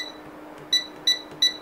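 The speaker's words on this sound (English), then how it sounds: "Me, I like having the feedback of the beep. I just feel that it is a bit loud" Three short, bright electronic beeps from a Reeven Four Eyes touch fan controller, evenly spaced and fairly loud over a faint steady hum, with no other sounds.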